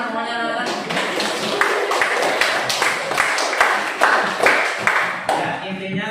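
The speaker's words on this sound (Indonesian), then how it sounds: "Tepuk tangan semuanya anak-anak." Schoolchildren clap their hands together in a classroom, a dense, sustained round of fast overlapping claps with a few louder accents, close and fairly loud, with no talking over it.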